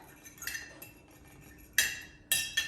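A fork clinks and taps against a small container while mixing a tofu marinade, scattered light scrapes followed by two sharp metallic strikes near the end, close and fairly quiet.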